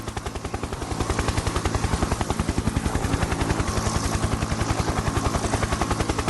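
Apache military helicopters fly close by. Their rotors make a loud, fast, steady thumping beat over a deep engine drone, holding strong for the whole stretch with no talk.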